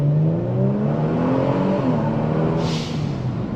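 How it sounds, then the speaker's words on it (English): Stock Kia Stinger engine pulling hard under acceleration, a loud, close, rising drone with climbing harmonics over a few seconds, heard from inside the car with no talk. "Oh, this car sounds good."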